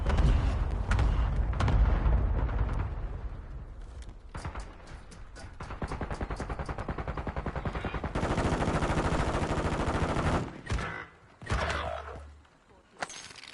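Bursts of rapid automatic gunfire crackle loudly in a video game shootout, with sustained machine-gun strings and scattered single shots tapering off into brief gaps near the end.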